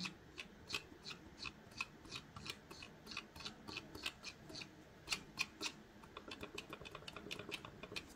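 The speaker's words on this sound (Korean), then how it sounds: "휠 소리." Soft, irregular ticking and light clicks patter along up close from a computer mouse scroll wheel being turned in short bursts, quiet and without talk.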